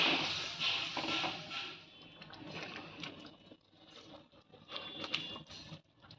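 Chili chicken sauce with onion and capsicum starts bubbling in a pan, giving soft irregular pops and sputters up close, with no talk.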